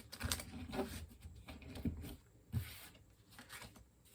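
A deck of Gilded Tarot Royale tarot cards being shuffled: faint, soft, uneven riffling and patter with a few slightly sharper flicks, close and quiet.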